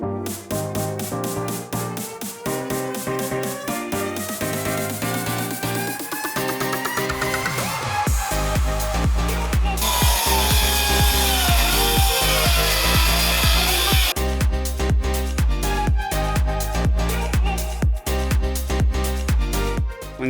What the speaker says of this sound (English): I'm going to be using this circular saw along with this straight edge to break my plywood down into the correct size.